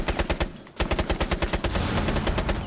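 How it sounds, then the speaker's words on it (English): Rapid light machine gun fire in Rainbow Six: Siege: a loud, steady stream of evenly spaced shots with a brief pause near the start, then continuous automatic fire to the end. "Yep, he's using an LMG"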